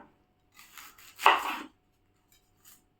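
A knife chops an onion on a board for an eggplant dish. A few light taps lead to one louder, longer cut, then silence and two faint later knocks.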